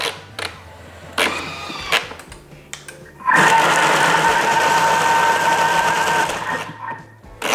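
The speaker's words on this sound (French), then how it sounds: "je vais mixer le tout" A blender purees a quiche filling of leeks, parmesan and bacon, whirring loudly and steadily for about three seconds after a few quieter kitchen clatters, then cutting off near the end.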